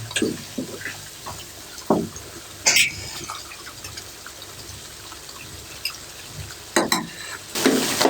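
Tomatoes are mashed and cooked into a beef karahi, with intermittent wet squelches, pressing sounds and light sizzling scattered at close range across a steady low bed of cooking noise.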